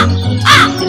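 A single short, harsh crow caw rings out in a cartoon over a steady low musical backdrop.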